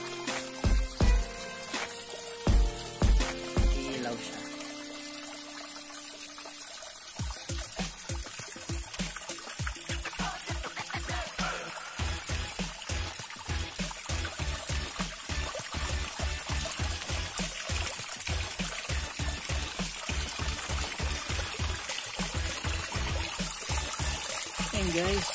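Steady trickling, babbling water from a small relaxation fountain with colored lights, running continuously and fairly close, with rhythmic low pulses and a few knocks near the start.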